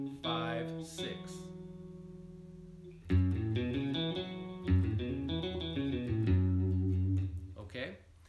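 Electric guitar running through the five notes of the A pentatonic scale with effects, a sustained chord-like tone, then a quick series of distinct plucked notes with a distorted, chorused sound.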